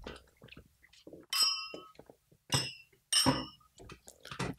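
Drinking glasses clinking together in a toast, several bright ringing chimes with short decays, spaced between bursts of talk in Czech.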